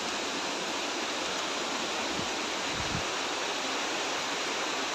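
Uparbedi waterfall in Keshkal, Chhattisgarh roars as a dense, continuous broadband rush of falling water, loud and close with no letup.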